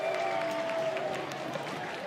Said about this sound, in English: he fires up this Duke crowd